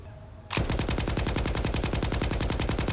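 Un-upgraded 10 kg 'Nenazhera' machine gun in S.T.A.L.K.E.R. 2 opens up after a brief quiet lead-in, then pours out a loud, rapid, steady stream of shots that runs without a break to the end.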